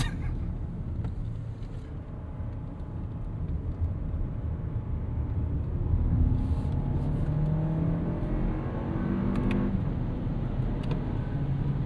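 A 2026 Toyota Crown Platinum turbo hybrid sedan pulls hard under acceleration, its engine droning steadily from inside the cabin and rising in pitch, with brief dips as the 6-speed automatic shifts gears; no one speaks.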